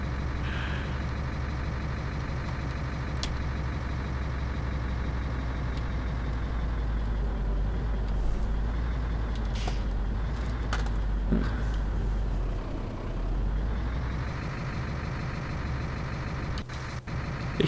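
Truck driving in 18 Wheels of Steel Extreme Trucker 2, on an Australian road, a steady low engine drone with a faint hiss on top, continuous and fairly quiet, with no talking.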